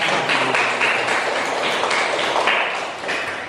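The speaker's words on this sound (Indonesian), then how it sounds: "Kita beri tepuk tangan untuk kakak kita." Applause from an audience at an Indonesian student exam presentation on youth social factors, a fairly loud, steady patter of clapping hands filling a few seconds without speech.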